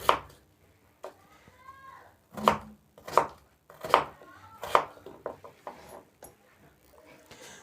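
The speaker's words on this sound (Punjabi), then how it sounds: "ਇਸ ਤਰੀਕੇ ਨਾਲ ਆਪਾਂ ਜਿਹੜੇ ਸਾਰੇ ਮੂਲੀਆਂ ਕੱਟ ਲਾਂਗੇ" Radishes for a carrot-and-radish pickle are chopped with a knife on a board, a string of sharp, close knocks in an uneven rhythm with short pauses, no talking.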